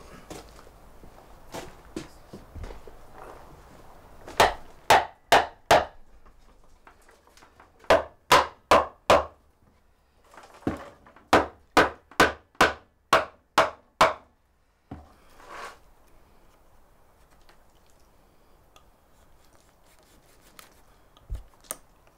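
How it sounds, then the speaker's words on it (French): Repeated hammer blows struck in quick bursts of three to six sharp, loud knocks, with short pauses between groups and quiet handling noises in the gaps. "Maintenant, on va chercher le marteau."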